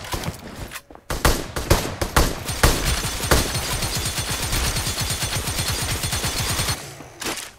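Rapid automatic gunfire from a machine gun in PUBG Mobile, a few separate shots followed by a long, dense, loud burst, then a brief pause and another short spurt near the end.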